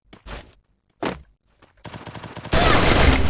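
Gunfire in the Free Fire battle royale game during a clash squad match: a few separate sharp shots, then a dense rapid burst that swells into loud continuous automatic fire at the end.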